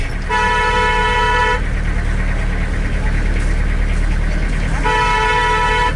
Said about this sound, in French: le klaxon, ça marche.